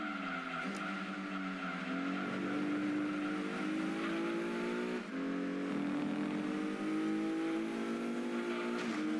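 Race cars in Gran Turismo 2 drone steadily with engine notes rising and falling through gear changes, a continuous loud pack of cars close by and no voices.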